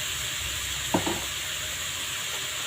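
Prawns with turmeric sauté in a hot pan with a steady, close hiss and sizzle, broken by a brief scrape of stirring near the middle.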